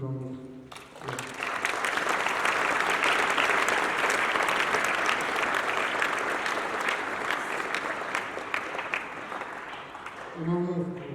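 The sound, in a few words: audience applause at school speech day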